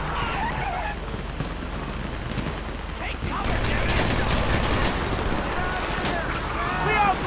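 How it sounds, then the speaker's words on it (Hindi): Gunfire from a bank heist shootout in Grand Theft Auto V, a dense, noisy spray of shots blending into a steady din, with voices over it. "We shooting our way out of here."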